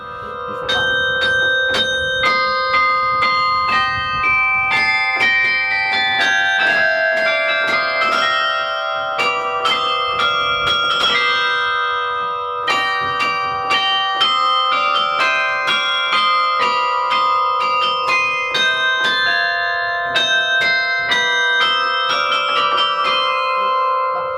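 The Forcalquier carillon in France ringing, with many bells striking a continuous melody, loud and resonant, notes overlapping with long ringing decay and no voices.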